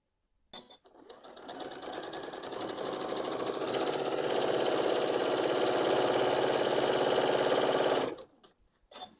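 A sewing machine stitches quilt pieces in one long continuous run, its rapid rhythmic needle chatter building up and then holding steady before stopping abruptly, close and clear with no voices.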